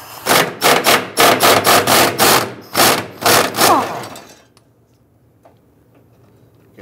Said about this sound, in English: we're going to loosen and remove this 13mm bolt